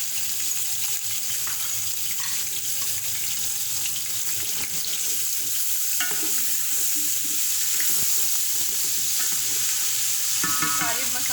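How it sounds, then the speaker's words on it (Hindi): Ginger garlic paste sizzling in a hot pan while mutton biryani is being cooked, a continuous hissing fry with scraping stir sounds and occasional clinks, steady throughout with no talk. "अदरक लहसुन का पेस्ट डाल रही हूँ मैं।"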